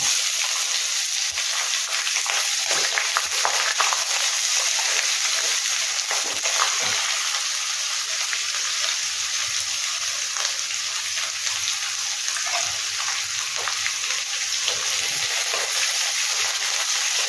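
Onions fry in a pan with mustard seeds for upma, making a constant bright sizzle and crackle with scattered small pops. The sound is close and fairly loud throughout, with no talking.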